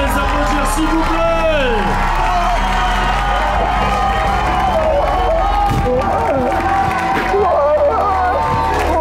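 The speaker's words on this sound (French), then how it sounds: "on peut les applaudir s'il vous plaît" A crowd cheers and whoops continuously after a boxing match ends, with loud, dense crowd noise and voices throughout and a few sharp whistles near the start.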